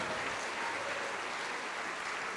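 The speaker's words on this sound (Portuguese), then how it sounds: "Glória a Deus, vamos aplaudir mais" Members of a church congregation applaud together, producing a sustained, even burst of clapping that neither swells nor fades across the short stretch.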